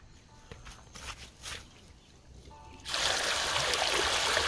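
Water from a pump motor bursts out and gushes into a field, a sudden loud, steady rush after quieter rustling and faint trickling.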